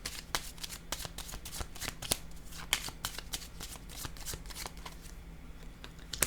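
Tarot cards are shuffled and handled in a rapid run of crisp, papery riffles and flicks, close and steady for several seconds, with no talking.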